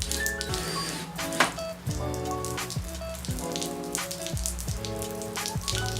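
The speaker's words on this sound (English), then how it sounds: "It started pouring really hard" Steady heavy rain pours and patters on surfaces throughout, a dense continuous wash with no voices, during outdoor car parts installation.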